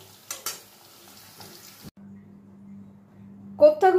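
Paneer koftas frying in hot oil, with a rough crackling sizzle in the first two seconds, then a quieter stretch with a low steady hum, and a brief burst of clatter at the end.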